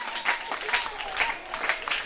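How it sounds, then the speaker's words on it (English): Audience at a school swearing-in and handover ceremony clapping steadily after an election result is declared, a dense, even round of applause from a crowd. "a round of applause to him"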